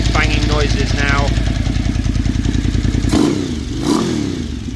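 A Suzuki TL1000R motorcycle idling warm at operating temperature after fuel system work, a steady rhythmic low engine chug, close and loud, while a person talks over it.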